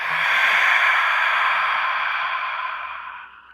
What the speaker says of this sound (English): and then an audible exhale through the mouth